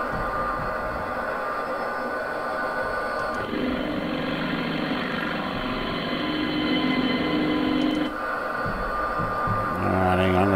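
An Sa342 Gazelle helicopter in Microsoft Flight Simulator runs at full throttle, a steady whining turbine and rotor roar that swells louder mid-clip before settling back.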